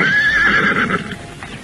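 Horse neighing loudly in a long, wavering whinny, with soft hoof clops beneath, a scene in an Indonesian radio drama set among soldiers and nobles.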